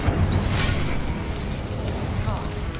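Incendio fire spell cast in Hogwarts Legacy, a steady crackling, whooshing burst of magical flame with a bright flare near the start, rumbling on continuously with game ambience and a voice over it.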